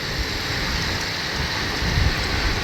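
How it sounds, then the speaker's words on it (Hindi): Heavy rain falls in the snowy mountains of Uttarakhand, a dense, steady roar of downpour that stays loud and even throughout, with no voices. "क्या ही बारिश।"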